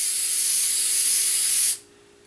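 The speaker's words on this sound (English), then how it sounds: "You spray the back side of the piece of cherry." Spray adhesive hisses steadily from an aerosol can onto the back of a cherry wood inlay piece, one continuous close, loud burst lasting under two seconds before cutting off abruptly.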